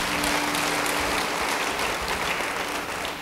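A church congregation claps together in sustained, dense applause throughout, steady and fairly loud without pause.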